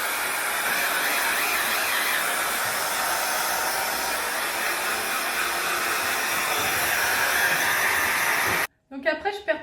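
Hair dryer blowing steadily on hair, a continuous loud whooshing hiss that runs for most of the span, then cuts off abruptly near the end as a brief voice speaks.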